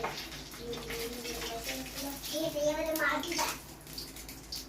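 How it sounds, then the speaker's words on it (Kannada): Papad frying in hot oil, a steady bubbling sizzle heard at close range while a person talks over it. "ಎಣ್ಣೆ ಕಾದ್ಮ್ಯಾಗ ಫಸ್ಟ್ ಒಂದು ಹಪ್ಪಳ ಹಾಕ್ತೀವಿ ನೋಡ್ರಿ"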